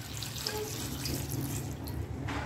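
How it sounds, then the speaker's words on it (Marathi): Water streams into a cooking pot of chakwat greens, a close, steady splashing flow with a low gurgle that carries on without a break and with no talking. "आणखीन थोडं पाणी घालायचं शिजण्यासाठी।"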